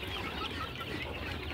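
Desi hens cluck continuously on a poultry farm, a dense, steady chorus of many birds heard at moderate distance with no talking.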